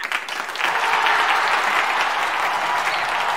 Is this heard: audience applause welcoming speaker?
yes